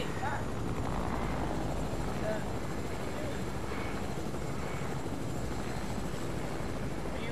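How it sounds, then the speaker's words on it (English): Helicopter rotors drone continuously in a Fortnite-style battle royale game, a steady loud churning noise throughout while players talk over it. "Let's get the helicopter and dip."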